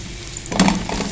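Sliced onions for a Chinese paratha dropped into hot oil, a sudden close sizzle bursting up midway through a brief moment and holding steady.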